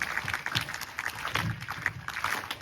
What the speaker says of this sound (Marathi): टाळी वाजवा सगळ्यांनी, एक टाळी.